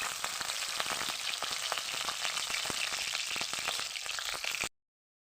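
Bok flower fritters fry in oil with a steady, close sizzle full of fine crackles and spits, continuous and unbroken for several seconds before it cuts off abruptly.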